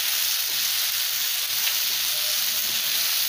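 Green chili and spices sizzle in a pan with softened tomatoes, a steady close hiss with light crackle and occasional stirring taps, and no voices.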